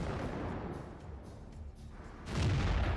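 Combat gunfire aimed at Russian armoured vehicles and APCs, heard as rumbling booms and distant bursts with a louder blast near the end, rough and continuous, no talk.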